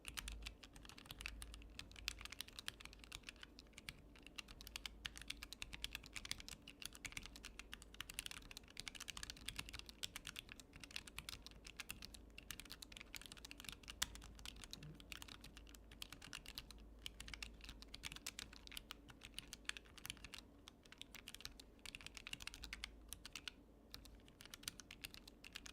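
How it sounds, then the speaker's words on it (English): Steady typing on a Work Louder keyboard with low-profile silent Kale switches, a soft, muted patter of rapid keystrokes, close and fairly quiet, continuing without pause. "here is a typing test for the low profile Kale switches from Work Louder. It's the silent keys."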